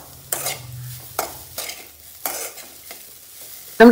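Grated cauliflower upma is stirred in a pan, with four or five distinct scraping sweeps over a soft background sizzle, close and fairly loud, without talk.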